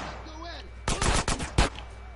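Video game gunfire: a quick cluster of loud shots bursts out in under a second, followed by one more sharp report, after a brief voice-like sound.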